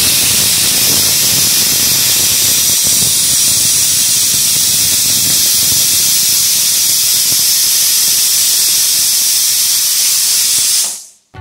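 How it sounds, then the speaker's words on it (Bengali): A pressure cooker boiling chana dal lets out a loud, continuous jet of steam as it whistles, a harsh close hiss that runs unbroken for about eleven seconds before cutting off abruptly. "প্রেশার কুকারের ঢাকনা বন্ধ করে এটাকে 3-4টা সিটি দিয়ে নেব"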